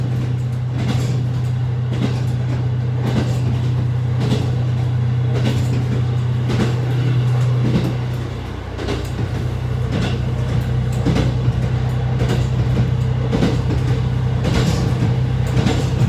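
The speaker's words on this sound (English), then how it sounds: "I'm so excited to be in Hokkaido riding a train that I've never ridden on." A JR Hanasaki Line one-man local train runs through Hokkaido, its steady low engine drone and rolling rumble continuous and close, with faint rattles and clicks over the top and a brief dip in the hum midway.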